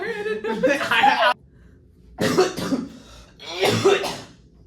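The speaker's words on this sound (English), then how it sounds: "I've been holding in that cough for like 5 minutes" A person coughs a few times in quick bursts close to the mic, with pauses between, sounding like a held-in cough finally let out.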